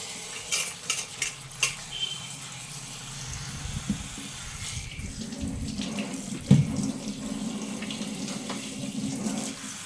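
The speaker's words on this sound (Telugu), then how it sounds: "ఇలా నీళ్ళల్లో వేసేసి శుభ్రంగా రెండు మూడు సార్లు కడిగేసి" Eggplants being washed under running tap water in a kitchen sink, with a steady splashing stream and a few sharper splashes early on, close and moderately loud with no talking.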